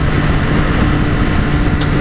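A motorcycle ridden on a track with a quick shifter, its engine a loud, constant close roar mixed with wind rush, with no break in the sound.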